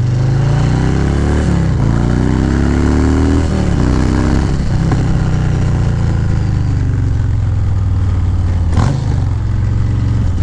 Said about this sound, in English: this exhaust sounds amazing